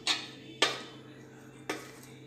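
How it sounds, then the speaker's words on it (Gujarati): Three sharp clinks of a spoon against a bowl while mixing rice flour and gram flour for pakora batter, spaced unevenly, close and fairly quiet with a low hum underneath. "હવે બધું સરસ મિક્સ કરી લઈશું"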